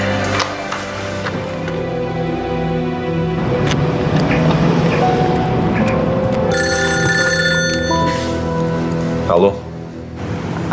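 A telephone rings with a bright repeated electronic tone in a TV drama scene, starting partway through over a continuous background wash and low voices.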